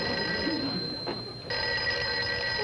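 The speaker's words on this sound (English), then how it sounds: "Somebody answer the phone." A telephone rings in a conference room in a classic sitcom scene, a steady electric bell tone that cuts out briefly in the middle before ringing on.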